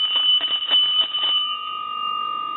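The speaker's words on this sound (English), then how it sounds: "this is a bell of ours at the shop" A Western Electric 233G payphone's ringer bell rings loudly with a rapid metallic trill for over a second, then stops, leaving a steady electronic tone.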